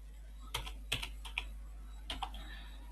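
Several sharp key clicks on a computer keyboard, a short burst of taps then a pause and a couple more, close and quiet over a low hum.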